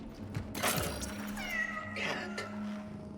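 A cat meows repeatedly in the video game Cronos: The New Dawn, with a few clear, close meows over a low steady background hum and game ambience.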